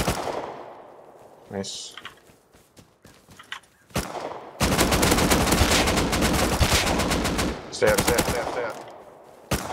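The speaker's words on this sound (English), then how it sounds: "I shot one of the AK players." An AK rifle fires in the game Rust, first in scattered single shots and then in a long, loud, rapid automatic burst, followed by a few more bursts. Voices speak briefly between the shots.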